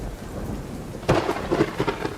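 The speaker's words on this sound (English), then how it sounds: "you can also turn down how loud the thunder is" A thunderstorm in a video game: steady rain hiss is broken halfway through by a sudden loud crack of thunder that rumbles on with a few rolling bursts, no voices present.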